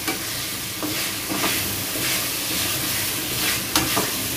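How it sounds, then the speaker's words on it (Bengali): Fried pointed gourd pieces go into cooked spice masala in a pan, giving a steady close sizzle with scraping stirring strokes throughout and no talk. "মশলাটা কষানো হয়ে গেছে, আর ভাজার পটলগুলো দিয়ে দিলাম।"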